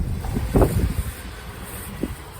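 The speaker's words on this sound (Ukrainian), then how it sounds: "Дуже великий вітер сьогодні" Gusty wind buffets the microphone with low rumbling bursts, strongest near the start, over a steady outdoor hiss.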